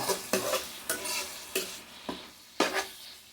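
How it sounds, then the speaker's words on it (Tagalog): Pakbet vegetables, Ilocano style, sautéing in a pan, with a soft sizzle broken by several sharp stirring scrapes spaced about half a second to a second apart, close and moderately loud. "Nagigisa tayo ng pakbet, mga kababayan."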